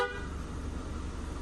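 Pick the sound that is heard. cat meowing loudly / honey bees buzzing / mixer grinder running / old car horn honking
old car horn honking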